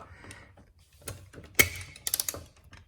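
Ratcheting and clicking of a torque wrench tightening a wheel on a 2015 Honda CR-V, with a sharp snap near the middle followed by a quick burst of close clicks.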